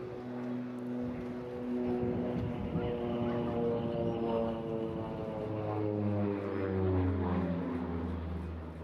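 Twin-turboprop aircraft powered by two Garrett T76 engines flies past at an airshow, a steady droning propeller hum with strong low harmonics that swells and shifts pitch as it passes, loud and continuous.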